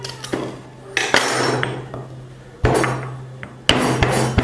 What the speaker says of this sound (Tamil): ஃப்ரெண்ட்ஸ், இது மாதிரி நல்லா இடித்து எடுத்துங்க மசாலாவை.